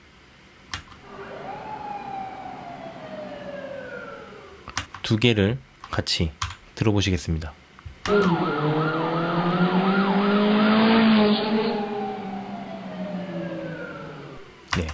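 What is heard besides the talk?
siren sound effect in video editing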